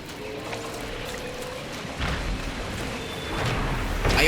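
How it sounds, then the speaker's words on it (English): A waterfall in the video game Dragon Age: Inquisition rushes with a steady, faint broadband pour, swelling slightly in bursts, with no voices over it. "I own this waterfall now."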